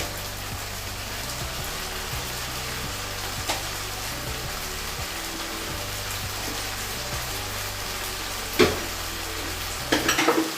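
Spices and chicken are stirred and sautéed in a frying pan for a Kashmiri chicken curry, giving a steady close sizzle with soft scraping strokes throughout and a couple of sharper clanks from the pan near the end.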